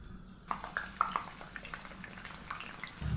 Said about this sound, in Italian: Olio ben caldo possiamo friggere.